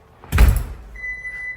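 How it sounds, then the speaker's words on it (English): A house front door swings open with a loud thump and rattle, then an alarm system's entry-delay beep sounds as a steady electronic tone; no talking. "we're going to open the front door"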